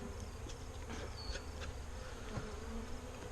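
Honeybees at a beehive make a faint, steady buzz with a few louder passes of individual bees drifting close, no speech.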